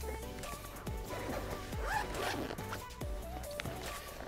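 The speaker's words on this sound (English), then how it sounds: "So if we unzip it" The zipper on a ResMed AirSense 10 CPAP travel bag is pulled open in several short, crisp rasping runs, close up and fairly quiet, with faint rustling between pulls.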